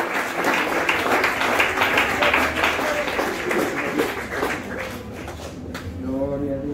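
Church congregation clapping for God during a service led by Pastor William Galeano, IPUC District 4, a loud dense round of applause with voices mixed in, thinning near the end.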